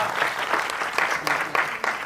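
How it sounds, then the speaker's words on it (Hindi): Applause rises from the audience at a music album launch event, a dense wash of clapping with a few louder individual claps standing out, continuous over the short stretch. "तालियां।"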